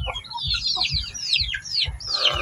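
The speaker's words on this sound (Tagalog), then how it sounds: "Malaking manok." A large native chicken in a small backyard clucks and calls in a series of bright, bird-like phrases over about two and a half seconds. Low thumping knocks sound underneath, and the calls are close and fairly loud.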